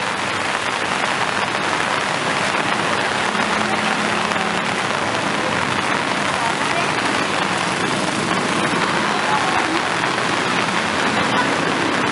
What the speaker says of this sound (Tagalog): lakas ang ulan oh. Lakas na.